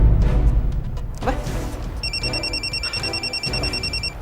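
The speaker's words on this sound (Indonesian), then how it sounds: "Saya tinggal angkat telepon dulu ya." Telephone ringing with a steady electronic warble that starts partway in and repeats in quick pulses, moderately loud over a room background with soft movement.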